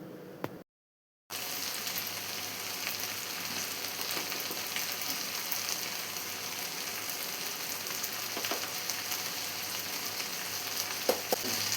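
Onions sautéing in a pan for Kerala-style egg chilli, a steady dense sizzle with faint stirring scrapes, continuous and close after a brief silent gap near the start, no talk.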